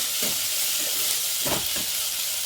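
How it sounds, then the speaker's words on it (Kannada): Chopped onions soften in a hot pan for a village-style brinjal bajji, giving a continuous close hiss and sizzle with a few faint soft knocks underneath. "ಈರುಳ್ಳಿ ಒಂದು ಎರಡು ಗಡ್ಡೆ ಅಷ್ಟು ಹಾಕೊಂಡಿದ್ದೀನಿ ಸ್ವಲ್ಪ ಸಾಫ್ಟ್ ಆಗಲಿ"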